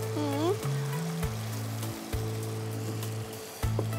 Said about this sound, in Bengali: ওই যে তেল ছিটে যাচ্ছে যে এর জন্য আস্তে দিতে বলছি